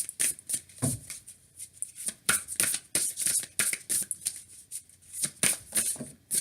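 A deck of tarot cards being shuffled up close, repeated crisp riffling and slapping bursts in an uneven rhythm, with no talking.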